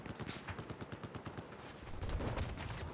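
Rapid bursts of automatic gunfire in the Battlefield 4 game, sharp repeated shots in quick rhythm that grow heavier and louder toward the end, close and alone without talk.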